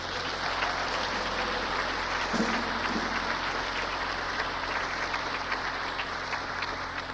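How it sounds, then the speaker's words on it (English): Applause from a church audience at a fall gospel concert, a dense steady patter of many hands clapping throughout, fairly even and moderately loud with no break. "So give her another hand clap for me, please."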